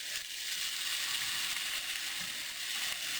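Chop suey vegetables fry in a pan with a continuous, even sizzling hiss, fairly quiet and steady and with no voices.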